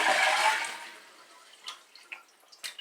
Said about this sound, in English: And we'll flush it to empty it, well, empty the tank anyway.